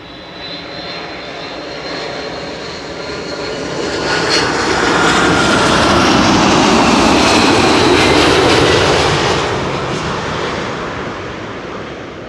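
A Transavia Airbus A321neo landing at Schiphol, its jet engine roar swelling from a distant rumble to a loud, broad whoosh as it passes, then slowly fading again, with no voices.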